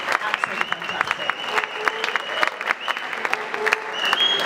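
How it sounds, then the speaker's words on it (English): An audience at a charity boxing event applauds, dense steady clapping from many hands filling the room, fairly close and sustained throughout, with a faint voice beneath. "huge round of applause"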